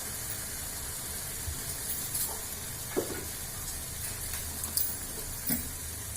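Raw chilies fry in a pan for a mustard chili pickle, giving a steady low sizzle and hiss with a few soft clicks of stirring.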